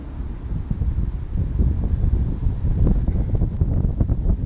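Steady, loud wind buffeting a microphone outdoors while a drone flies into a headwind of about 14 mph, a continuous broadband rumble that builds slightly and never lets up, with no voices.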